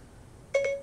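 A short electronic chime from a phone's Siri voice assistant, a brief two-note tone at moderate level after a quiet stretch, heard alone.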